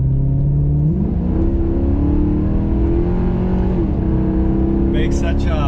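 A Maserati GranTurismo's engine pulls hard on the highway, a loud, steady roar whose pitch climbs gradually as the car gains speed, heard from inside with a voice over it near the end.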